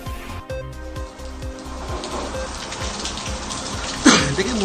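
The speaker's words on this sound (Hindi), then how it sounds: "मुंबई में काफ़ी तेज़ बारिश देर रात से हो रही है" Heavy late-night rain pours down on Mumbai as Cyclone Tauktae approaches, a steady dense hiss of downpour with a sharper, louder splash near the end.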